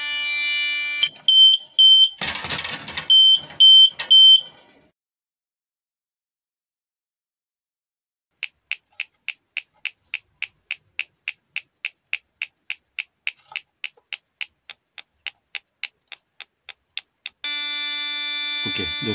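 A gas detector alarm goes off in sharp electronic bursts: a cluster of piercing tones, a silent gap, then a long run of evenly spaced rapid beeps ending in a sustained shrill tone, loud and close with no talk.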